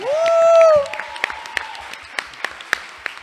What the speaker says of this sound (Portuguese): uma salva de palmas ao Gabriel.